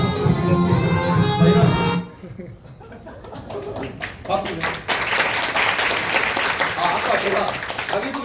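An audience at a magic show applauds after a card trick. Brief music gives way to scattered clapping, with light chuckles and a few voices mixed in.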